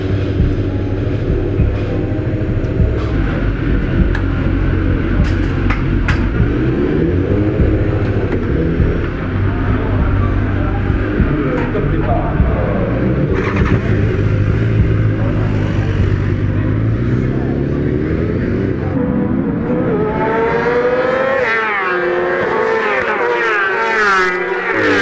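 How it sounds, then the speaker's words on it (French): Loud, sustained engine drone from racing motorcycles in the pits warming up before a race start, with rising and falling revs and a sharper climbing whine toward the end. "il se prépare à sortir la moto du coup pour faire l'échauffement"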